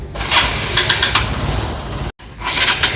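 A vehicle engine is started up close and loud, cranking and catching into a rough rumbling run with a brief cut near the end before the engine noise resumes.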